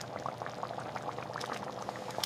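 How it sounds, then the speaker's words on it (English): Beef and broccoli stir-fry sauce bubbling and thickening in a pan, a dense stream of small popping bubbles, close and moderately quiet, steady throughout without talk. "Watch the sauce thicken beautifully."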